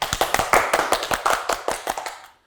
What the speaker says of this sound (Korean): 응원의 박수 한번 부탁드리겠습니다